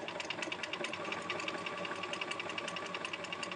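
A sewing machine runs steadily through a few stitches and a short back stitch while mending a tear, a fast even mechanical whir heard close up with no talking.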